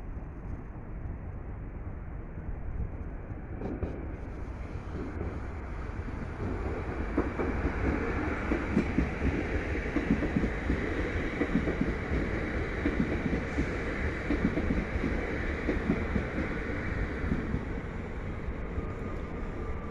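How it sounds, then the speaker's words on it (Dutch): SLT passenger train approaching and rolling past at close range, a steady broadband rumble of wheels on rails that swells after the first few seconds and holds loud to the end, with no talking. "er komt gewoon nog een mooie SLT aangereden"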